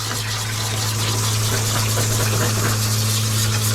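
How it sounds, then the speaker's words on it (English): Fresh water sprays steadily while an old scruffy Australian dog is rinsed, a constant hissing gush over a low humming pump, close and unbroken with no talking. "So I'm just rinsing him with fresh water."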